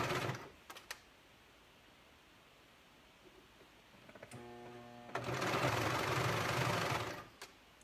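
Sewing machine stitching loose-weave sweater fabric, a few clicks and short bursts early, then a steady close mechanical whir running for about two seconds near the end, with no talk.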